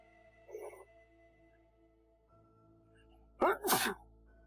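A single sharp sneeze close by, preceded by a faint short vocal sound, in an otherwise quiet room.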